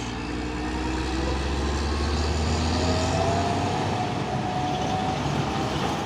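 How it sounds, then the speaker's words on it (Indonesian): A truck rumbles past on a road with a heavy, steady low engine drone and broadband road roar, loud and continuous, heard from inside a moving vehicle. "Ada truk coklat ini dan di belakang truk Super Great Mitra."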